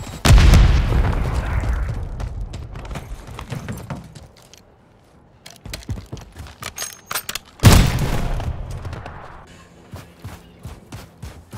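Airstrike explosions in a video game: two heavy booming blasts, one right at the start and another near eight seconds, each followed by rumbling debris and scattered crackling pops, with lighter bursts of gunfire between them.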